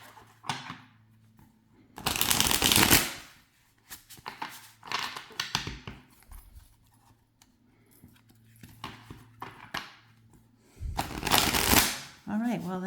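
Stiff, plastic-coated Tarot4All Marseille tarot cards riffle-shuffled by hand, with two loud rushing bursts and softer shuffles and taps between them, a voice talking at times.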